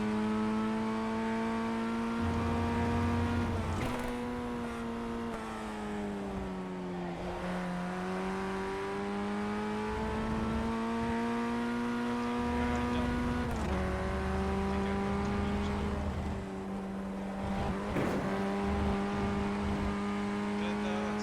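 Mazda MX-5 Miata race car engine in a racing simulator, a steady droning hum that dips and climbs with gear changes and lifts through corners, continuous and fairly loud throughout.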